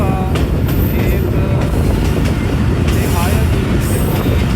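Bulleh Shah Passenger train running on the Lahore to Kasur line, a loud, steady, close rumble with rattling carriages and intermittent high squeals throughout.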